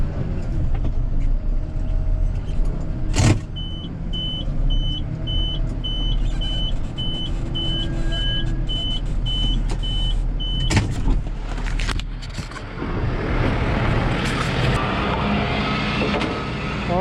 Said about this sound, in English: We're gonna try to get this thing on the wheel lift.